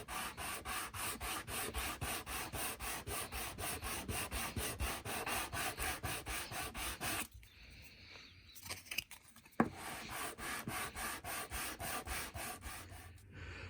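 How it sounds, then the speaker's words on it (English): Plastic parts from a model structure kit are sanded by hand, a steady rhythmic back-and-forth rasping that repeats quickly and closely. It pauses briefly near the middle, then resumes at the same pace. "Okay, I've got all the parts pretty well sanded off."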